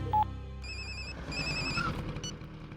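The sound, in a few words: phone ringing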